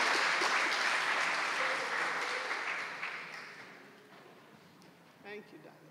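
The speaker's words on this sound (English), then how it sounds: "Let's welcome him with a clap." A church congregation claps in welcome during a Sunday service, a loud, dense burst of applause that gradually fades over several seconds, with a brief voice near the end.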